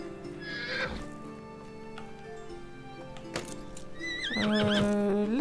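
Horse neighing in the medieval survival game Medieval Dynasty, a loud whinny rising near the end over a steady game music and ambience bed, with a few faint hoof clops earlier.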